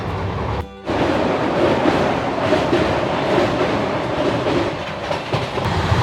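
A passenger train running near Kathua station towards Jammu, a loud steady rumble with rhythmic wheel clatter heard from on board, a brief dip near the start, no voices.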